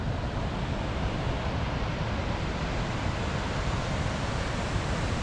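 Steady, dense rushing roar of a waterfall in a mountain setting, continuous and fairly loud with no breaks and no voices.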